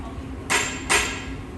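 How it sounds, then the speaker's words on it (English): A hammer strikes a piece of glass resting on a steel table twice in succession, each blow a sharp, bright impact with a brief ringing tail over low background noise. "I've got a hammer here, I've got a steel table, and I've got a piece of glass"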